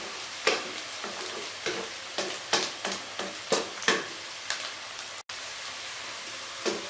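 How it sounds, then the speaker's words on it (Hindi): Onions frying in a pan for chana pulao, with a steady sizzle under a series of sharp, close stirring scrapes and clinks at a fairly regular rhythm. "प्याज फ्राई हो रही है"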